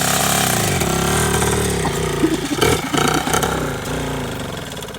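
A 1979 Suzuki RM 125 two-stroke motorcycle engine runs loud and close, holding a steady buzzing drone with a few quick throttle blips in the middle before settling back.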